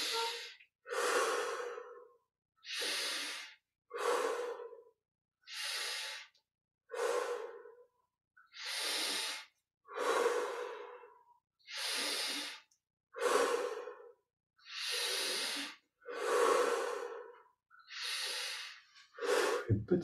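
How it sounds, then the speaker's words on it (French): Slow, deep breathing during a Kriya Yoga breath exercise: about fourteen long, rushing inhales and exhales in a steady rhythm, close and soft, with silence between each breath. "On prend 25 respirations profondes."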